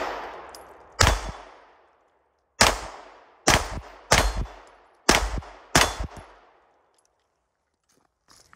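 Six sharp pistol shots crack at an outdoor shooting range, loud and close, spaced irregularly about a second apart, each followed by a fading echo, then quiet.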